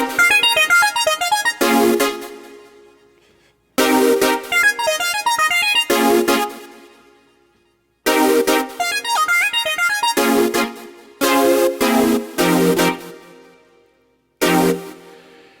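Thick, bright synth chords played on a Yamaha MODX keyboard in a funk-pop cover, sounding in loud stabbing phrases with short gaps between bursts and no voices.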